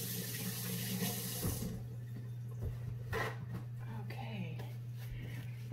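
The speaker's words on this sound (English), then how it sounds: "let me wash my hands because it's a mess." A kitchen tap runs into a sink while hands are washed, a steady close splash with brief handling noises and faint talking.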